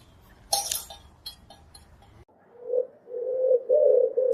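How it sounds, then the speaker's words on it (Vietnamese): A pigeon coos softly in a low, repeated rhythm of three or four rolling calls, after some earlier clinks and light rustling. "Chim bồ câu."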